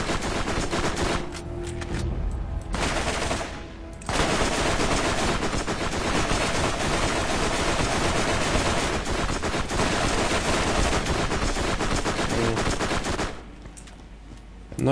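Sustained bursts of rapid automatic gunfire from a high-fire-rate gun in Borderlands, loud and dense, broken by brief pauses before firing resumes.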